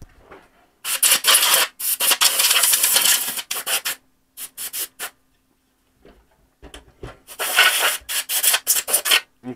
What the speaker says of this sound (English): Give it a bit of a brush out to get any loose dust out.